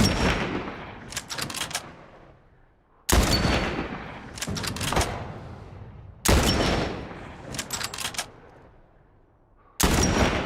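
Gunfire in The Last of Us comes as four loud, sharp shots spaced roughly three seconds apart. Each blast is followed by a long echoing decay and a few quick clicking reload or handling sounds.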